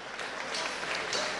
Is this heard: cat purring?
no